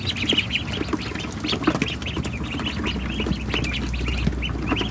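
American ducks on a farm, quacking in frequent overlapping calls at close range amid general flock noise, with a low hum rising toward the end.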